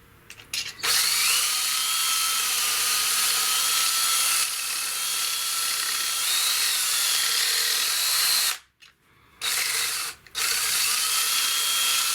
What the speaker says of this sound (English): time for some more drilling